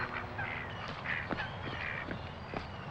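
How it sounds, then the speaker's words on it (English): Ducks quack near the River Thames in a string of nasal, honking calls, several overlapping in an uneven rhythm, fairly close, with no talk. "Quack, quack, quack, quack, quack, quack, quack, quack, quack."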